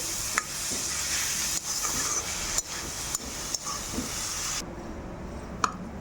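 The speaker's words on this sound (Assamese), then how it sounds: "আৰু এফালে ভাজি আছোঁ কলডিল" Steady, loud sizzling of banana flower frying in a pan, broken by a few sharp clicks and stirring scrapes, with no voices.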